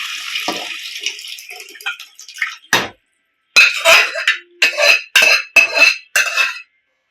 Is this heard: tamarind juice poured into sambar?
yes